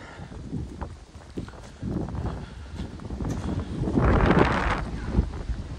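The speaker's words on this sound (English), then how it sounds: "I apologize for this wind. I know it's hard on sound, speaker, whatever." Gusty outdoor wind buffets the microphone in a late-winter setting, a continuous low rumble that rises into a stronger blast around the middle and stays loud to the end, with no talk.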